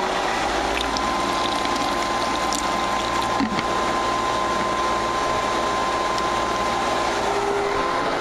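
A pool filter pump runs at full speed with a steady, close mechanical whir and hum, a constant drone with a faint rattling texture and one brief knock partway through.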